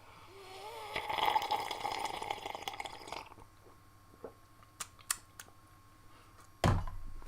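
A close, wet slurp of a drink lasts about two seconds, followed by a quiet pause and a few small clicks and taps nearby.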